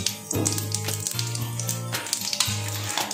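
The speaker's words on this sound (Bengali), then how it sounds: "তো এবার ফোড়ন দেওয়া হচ্ছে তো জিরে দেওয়া হলো ফোড়নে আর দেখো গরম তেলটা একদম গরম" Cumin seeds sizzle and crackle loudly in very hot oil in a kadai, a dense close-up frying hiss throughout with a steady low hum underneath and no talking.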